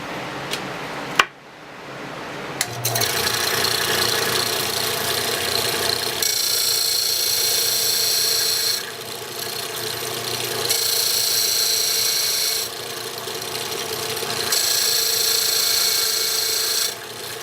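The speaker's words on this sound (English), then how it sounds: "I don't have one, so I'll use my sander." A power sander whines steadily in long bursts with short pauses between, a continuous rough grinding as it trims a small pen blank, loud and close.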